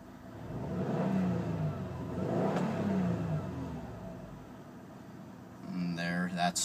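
A 2013 Subaru STI Limited sedan engine revs in two swelling blips, then settles to a low, fairly quiet idle, with someone talking briefly at the end.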